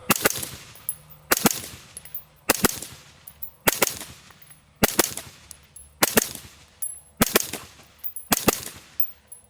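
Suppressed 6mm rifle shots through a lightweight HAVIC suppressor: eight sharp, loud cracks at a fairly even pace about a second apart, each followed by a brief decaying tail outdoors.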